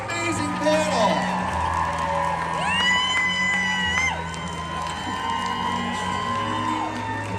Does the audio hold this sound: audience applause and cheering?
yes